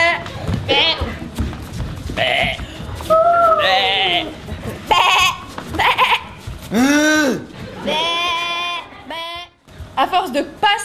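Sheep bleat repeatedly up close, several wavering cries overlapping and trailing off, with occasional hoof thumps between calls.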